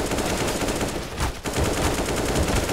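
Rapid gunfire from a video game shooter, a dense continuous rattle of shots at steady loudness that briefly dips once before resuming just as thick.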